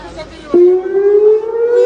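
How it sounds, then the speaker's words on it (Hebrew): A civil defense rocket siren wails in Beersheba, a loud rising tone that swells suddenly and holds, with faint background voices. "גם אזעקה ברקע"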